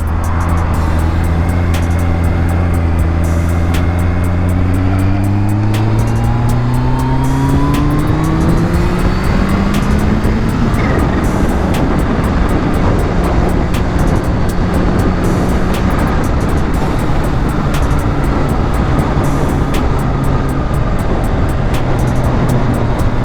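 Kawasaki H2 motorcycle engine running loud and close throughout while riding, with rising and falling revs as it accelerates through gears, wind roar building at speed.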